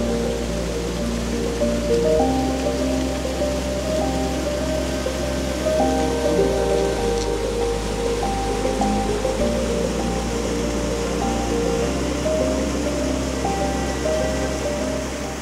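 Waterfall pouring steadily beside a mossy cliff face, a constant full rush of falling water with no voices, close and even throughout.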